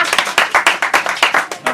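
A live audience at a haunted Halloween paranormal investigation event claps in a brief burst of quick, sharp hand claps. The claps come in an uneven rhythm close to the microphone, with no talk over them.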